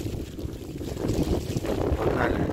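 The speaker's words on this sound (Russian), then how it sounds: "ветрище такое стоит" Strong wind buffets the microphone on the 700-metre summit of Mount Sovkhoznaya near Novorossiysk, above the coast, producing a continuous low rumble that swells louder in the second half.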